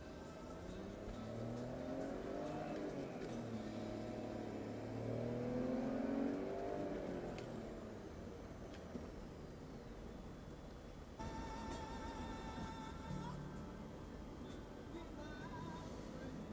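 BMW X5 with about 150,000 miles cruising at high speed on the open road, a steady engine drone and road roar filling the cabin, rising briefly as it accelerates before settling into a constant hum.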